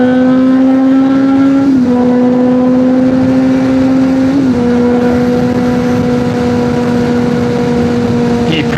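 Honda CBR motorcycle accelerating hard on a mountain road, a loud sustained engine drone climbing in pitch with two quick gear-change dips, heard up close throughout.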